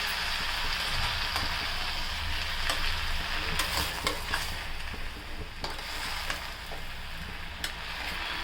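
Paneer mix curry is stirred in a pan with salt and green chillies, giving a steady sizzle with scraping spoon strokes throughout and no speech.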